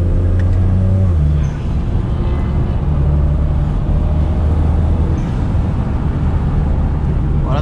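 A car engine in sport mode with traction control switched off, driving up mountain roads, drones loudly and steadily from inside the cabin, with a shift in pitch early on and continuous engine roar throughout.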